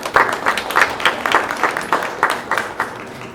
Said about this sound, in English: How about a nice round of applause for Matthew Faerber?